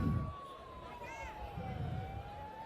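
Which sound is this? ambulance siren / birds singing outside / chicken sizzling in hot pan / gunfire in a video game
ambulance siren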